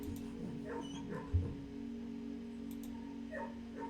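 A dog in a kennel within the video game Blue Prince gives soft, faint yips and whimpering barks over a low steady hum, a few scattered short calls with one slightly louder thump.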